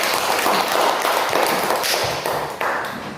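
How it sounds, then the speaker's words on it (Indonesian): A school class claps for classmates during a math lesson, a dense steady patter of many hands filling the room, tapering slightly toward the end. "Mari kita berikan tepuk tangan untuk teman-teman"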